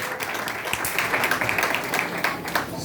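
A church congregation applauding during a Father's Day sermon, a steady wash of many hands clapping at once, loud and sustained with a faint voice mixed in.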